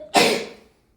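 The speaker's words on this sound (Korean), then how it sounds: "기침해? 왜 기침해?" A single sharp cough, loud and close, bursts out and fades quickly into near silence.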